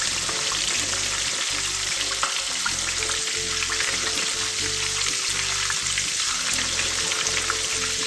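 A giant three-kilo tilapia fries in a pan of hot oil, giving a steady, dense crackling sizzle with low bubbling that runs evenly from start to finish and carries no speech.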